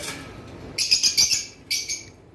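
Pet lovebirds of kingfisher and blue opaline varieties chirping close by in bursts of bright, high twittering calls separated by short quiet gaps.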